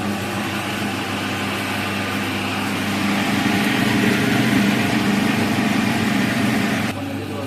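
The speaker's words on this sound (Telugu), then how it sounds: "3 గంటలు నానబెట్టిన మినపప్పుని నీట్గా కడుక్కొని గ్రైండర్లో వేసుకుందాం" An electric wet grinder churns soaked urad dal into idli batter, a steady, loud motor drone with a grinding rumble that swells slightly midway and then drops back a little near the end.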